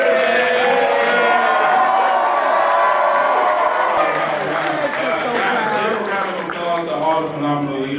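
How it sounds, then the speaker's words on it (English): A large crowd cheers and whoops loudly throughout, with applause mixed into the continuous roar. "Let's give a huge, huge round of applause to Garrett Roberts as he comes up."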